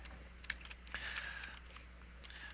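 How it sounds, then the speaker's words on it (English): Quick, faint taps on a computer keyboard while entering a math function, a few scattered clicks over a quiet room hum. "Let me type that in."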